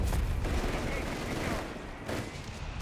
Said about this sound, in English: Heavy mortar again once more, zoning in here on VonIvan's Granatenwerfer.